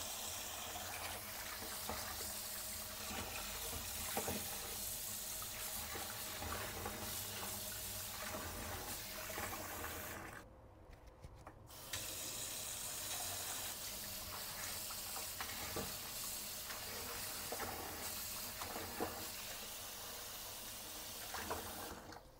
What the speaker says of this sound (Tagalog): hugasan lang natin siya ng running water